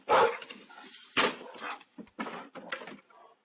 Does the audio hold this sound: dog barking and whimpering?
yes